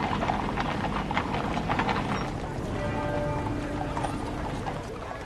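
Horses' hooves clop in a steady, moderately distant rhythm during a slow ceremonial funeral procession, mixed with rattling harness and crowd ambience.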